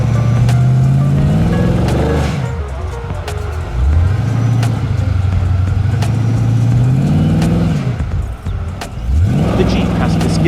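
A Jeep Grand Cherokee SRT engine drives an off-road course, skidding along on uneven ground with three wheels touching, its note climbing and falling in loud revving surges close by.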